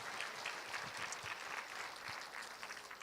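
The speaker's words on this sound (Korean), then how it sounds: "우리 하나님께 감사의 박수 올려드리겠습니다" Congregation applause at a rainy outdoor Sunday worship service at Gwanghwamun, a steady, dense clapping that fills the whole stretch with no voices over it.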